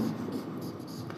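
Marker or chalk scratches across a board during a physics lesson on dimensional analysis, a continuous faint scraping under a quiet hum with a voice speaking briefly at the start.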